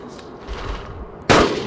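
A single loud, sharp gunshot cracks out near the end of a short stretch of low in-game ambience while hunting a Stegosaurus in Carnivores Dinosaur Hunter Reborn.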